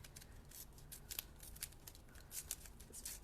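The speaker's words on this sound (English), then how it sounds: "I'm going to do my little rip in half technique" Sticky tape is torn in half with short, crisp ripping and crackling bursts. The sound is quiet and close, with no voices.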